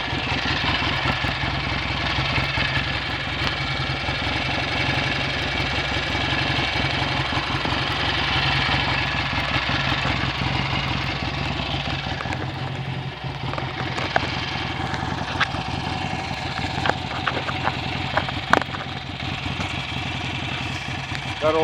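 A BSA A65 Thunderbolt motorcycle engine runs steadily and loudly throughout, a dense continuous twin-cylinder drone with throttle rising and easing near the end, close to the listener and without audible talk.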